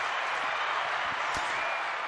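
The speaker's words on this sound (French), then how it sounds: "On arrête les applaudissements s'il te plaît" Applause from a studio audience on a French morning show, a steady dense wash of clapping that runs unbroken and moderately loud, with a faint voice underneath.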